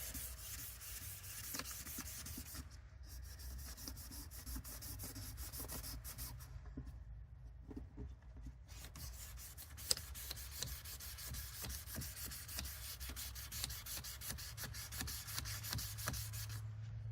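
Steady hand sanding of a foggy headlamp lens, a soft continuous scratchy rubbing with a fine rasping rhythm, close and quiet, with no voices.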